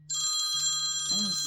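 A phone rings with an incoming call from an unknown caller, a steady electronic ringtone with sustained tones. A person's voice briefly overlaps it near the end.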